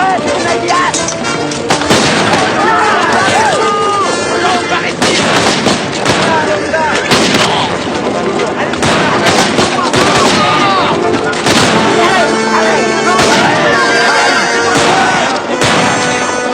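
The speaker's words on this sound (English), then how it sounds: "That was gunfire. A long way off." Distant gunfire from Baker rifles: scattered, far-off sharp cracks and booms running through a dense, busy backdrop of sound for the whole stretch.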